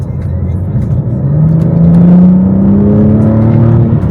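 Car engine revving and accelerating, a steady loud rumble with a rising whine that climbs in pitch over several seconds, close and continuous.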